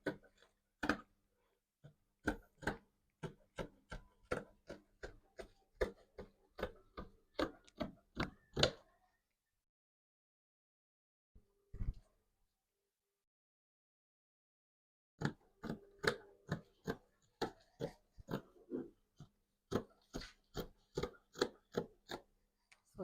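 Fabric being cut with scissors while sewing a lace kaftan, heard as a steady run of close, crisp snips, then a pause with one faint click, then a second burst of regular snipping, with no talking.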